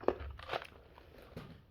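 Mini chewy balls are chewed close to the mic: a few crunchy, wet bites with soft mouth sounds between them, brief and fairly quiet.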